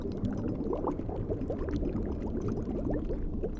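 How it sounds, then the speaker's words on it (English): Water being collected in the survival game Bermuda Lost Survival: a dense, bubbling, gurgling liquid wash with rapid small splashes, steady and moderately quiet throughout, no talking. "Collecting water."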